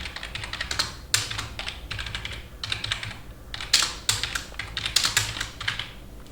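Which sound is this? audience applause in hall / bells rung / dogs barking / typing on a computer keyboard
typing on a computer keyboard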